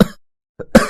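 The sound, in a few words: man coughing badly in cartoon story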